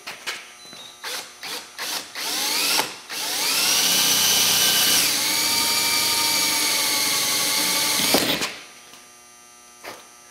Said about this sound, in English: got my 1/8 inch drill bit in my DeWalt, and I'm going to drill out